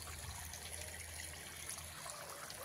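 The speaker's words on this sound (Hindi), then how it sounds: "पानी चालू है" Irrigation water runs steadily through an eggplant field beside green chickpea plants, a continuous soft trickle and flow heard alone outdoors with a faint low hum underneath.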